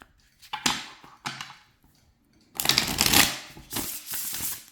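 A stiff ghost-themed tarot deck being riffle-shuffled by hand, with short crisp card bursts followed by longer rattling cascades, close and alone.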